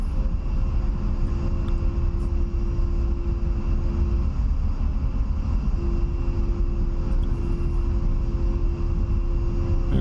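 An A-10 jet in the DCS flight simulator taxiing, its engines giving a steady loud rumbling roar with a constant whine, unbroken throughout.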